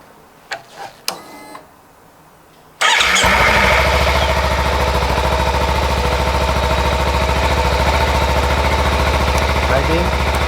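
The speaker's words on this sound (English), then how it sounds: "at this point we can fire up the bike and test all the functions" Kawasaki Ninja 300 motorcycle, 2013–2017 model, starting up: a few faint clicks and taps, then the engine fires abruptly and settles into a loud, steady idle that runs close by for the rest of the clip.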